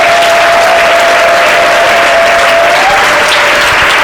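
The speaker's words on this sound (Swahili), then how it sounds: "Mpigie makofi mazuri." A church congregation at a Lord's Supper service bursts into loud, sustained applause, dense and continuous for several seconds, with a faint crowd murmur underneath.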